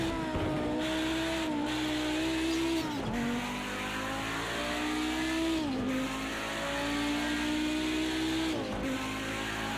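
An Audi Group B Quattro racing car engine in a video game, at Bathurst, drones at high revs, dropping briefly with each gear shift before climbing again, with a whining turbo layered over the roar.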